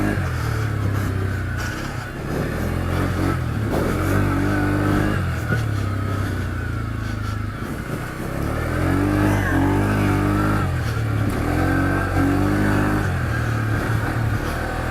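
Textron Offroad Alterra 500 ATV on a muddy trail course, its engine revving loudly in repeated surges and dips as it accelerates and eases off through corners, close and continuous.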